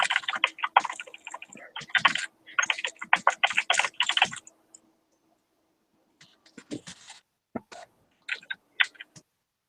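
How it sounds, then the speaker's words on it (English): Close keyboard typing in quick irregular bursts of clacking keystrokes, pausing for a couple of seconds before a sparser second round of taps. "Let me type her note."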